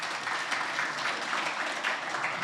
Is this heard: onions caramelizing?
no